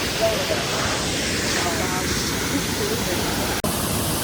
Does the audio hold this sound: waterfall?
yes